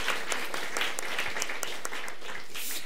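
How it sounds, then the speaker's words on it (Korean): A church congregation claps in encouragement during a sermon, a steady, moderately loud burst of many hands lasting a few seconds. "우리 격려의 박수 부탁드리죠."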